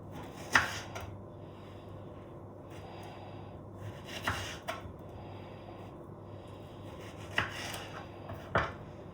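A knife cuts a cored tomato into pieces on a board, making four sharp, quiet chopping taps spaced a few seconds apart over a faint kitchen hum.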